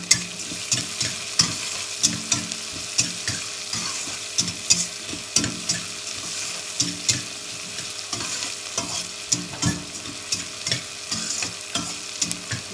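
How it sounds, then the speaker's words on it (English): Onions sautéing in a pan for vegetable upma with curry leaves and ginger, a soft steady sizzle broken by regular scraping and stirring strokes of a spatula, close by and with no speech. "Just saute the onions just for a minute."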